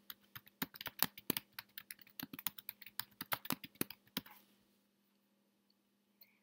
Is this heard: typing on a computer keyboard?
yes